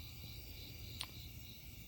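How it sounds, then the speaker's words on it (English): Crickets chirp faintly in a steady, high trill at a night campsite beside a parked truck, with one brief brighter chirp standing out over a soft low background rumble. "enjoy the crickets."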